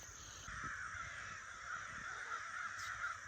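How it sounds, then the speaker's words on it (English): Many crows caw repeatedly at a distance, a busy overlapping chorus of harsh calls over a steady background hiss. "that looks like a murder of crows"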